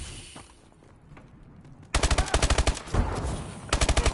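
Automatic gunfire in a Call of Duty Hardpoint match on the Solar map rattles out in loud, rapid bursts after a quieter opening, with brief pauses between volleys.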